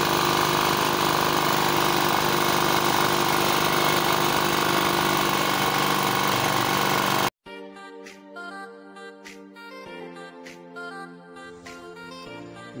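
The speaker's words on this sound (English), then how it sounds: "So I want to teach you guys how to reduce and increase the speed of the generator." A running 3.0 kW generator engine has its speed turned down, a loud steady mechanical drone for about seven seconds before dropping abruptly to a much quieter, uneven low hum.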